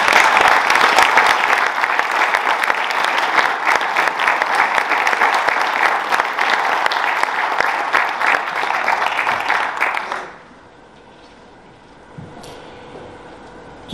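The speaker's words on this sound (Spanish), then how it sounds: "Un fuerte aplauso." A hall full of people at an awards ceremony gives loud, continuous applause for about ten seconds, then it cuts off abruptly into near silence with a faint knock or two.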